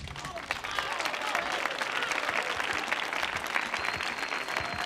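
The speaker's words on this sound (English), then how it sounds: "I need you to clap and applaud for all of these poets." An audience at a youth poetry performance on a stage claps and applauds for the poets, a full, continuous wash of many hands with faint voices underneath.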